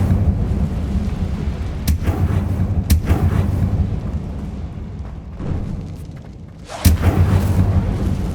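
An Incendio fire spell cast in Hogwarts Legacy lands as heavy booming blasts over a steady low rumble, with three or four sharp strong impacts spread across the stretch and no talking.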